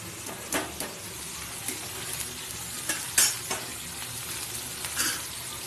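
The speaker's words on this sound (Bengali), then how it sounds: "এর মধ্যে ডালটা একটু নেড়ে দেবো" Dal (lentils) being stirred in a pan during vegetarian home cooking: soft, scattered scraping strokes of a utensil over a faint, steady low sizzle, fairly quiet and with no voices.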